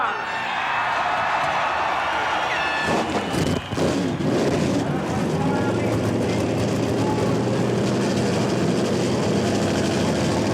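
Animated stop-motion NASCAR race cars at the 1992 Hooters 500 starting their engines: a loud, dense engine roar swells in after a few seconds and holds steady as a continuous rumble, with crowd noise and voices beneath.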